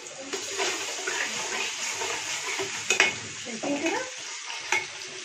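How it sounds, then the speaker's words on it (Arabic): Garlic dropped into hot oil in a home kitchen while cooking liver, giving a steady close sizzle with stirring scrapes and a few brief louder spatters throughout. "نسخن الزيت كويس قوي عشان نبتدي نحط التوم"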